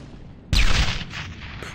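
A grenade blast in Brothers in Arms: Hell's Highway, a single sudden loud boom with a deep low thump that rolls off into a fading rumble.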